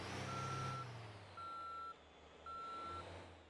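Three evenly spaced bus reversing beeps in the video game MotorTown sound over a low engine rumble, steady and mechanical.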